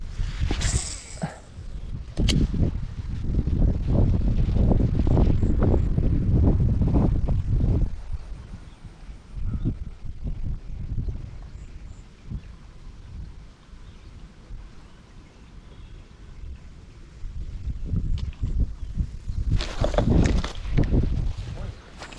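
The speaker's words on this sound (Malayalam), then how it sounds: "കാറ്റ്." Wind gusting outdoors beside a flowing river during traditional fishing, heard as loud, low, rumbling buffets that swell and fade, strongest early and again near the end, with no clear speech.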